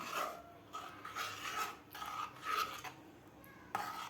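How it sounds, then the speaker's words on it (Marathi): Custard apple pulp is stirred into basundi in a pot, a quiet, close scraping and rasping of a spoon against metal that repeats in uneven strokes, with no one talking. "आता यामध्ये घालायचं आपल्याला सीताफळाचा गर काढून घेतलेला आता व्यवस्थित मिक्स करून घ्यायचं आहे आपल्याला"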